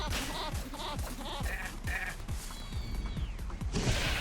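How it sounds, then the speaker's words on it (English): A goat bleating repeatedly in Tokyo Jungle, several wavering cries in a rhythmic series up close, ending amid a burst of other game noise. "That wasn't a deer, it was a goat."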